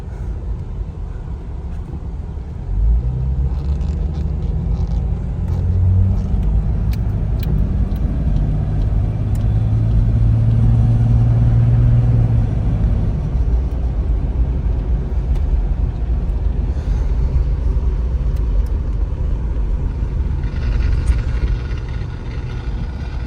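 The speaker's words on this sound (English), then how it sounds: "I can definitely tell how it's gripping the asphalt. She's definitely four-wheel." A 1987 Jeep Cherokee XJ Wagoneer driving on asphalt in four-wheel drive, its engine a steady, loud low rumble heard from inside the cabin, swelling slightly midway as it pulls along, with no voices.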